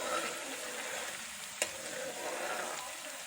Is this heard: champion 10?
no